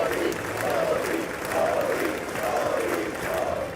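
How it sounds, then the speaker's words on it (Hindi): Members of the US Congress give Narendra Modi sustained applause and a standing ovation, a broad steady roar of clapping from a large chamber crowd with a few cheers and repeated rising chanted calls. "पूरे 15 बार स्टैंडिंग ओवेशन और 79 बार तालियां"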